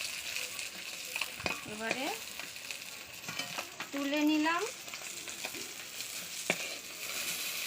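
Fish frying in a pan: a continuous sizzle with sharp clicks of a utensil against the pan, as someone speaks briefly over the cooking.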